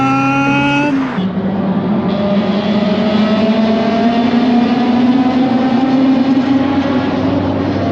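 A Honda Civic Type R (FN2) drives along, its engine note dropping sharply as it shifts gear, then climbing steadily in a loud, continuous whine that builds through the run.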